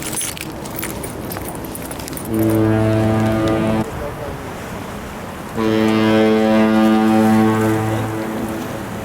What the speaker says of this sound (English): I love that foghorn.